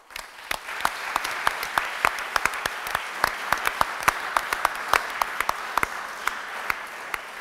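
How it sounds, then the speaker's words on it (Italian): An audience at an Italian evening talk on freedom and artificial intelligence gives a brief round of applause, dense hand claps filling the room at steady volume for several seconds with no talking. "un segno di incoraggiamento sia per i nostri amici della Romagna, sia per il Cardinal Zuppi con un eh, rapido applauso."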